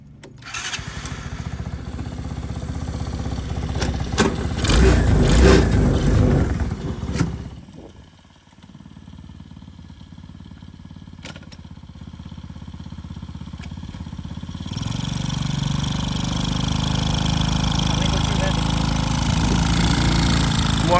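A 125cc go-kart engine running up close, loud and steady with a rough idle, briefly dipping before revving back up to a sustained higher roar.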